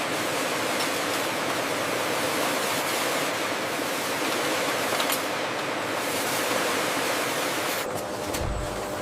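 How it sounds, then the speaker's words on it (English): Vegetable oil pours steadily from filling nozzles into bottles on a high-speed factory line, a dense continuous rush like running water that holds at an even level throughout, with a brief clatter near the end. "The filling nozzles descend, and the oil swirls into the bottles from the bottom up to prevent bubbles."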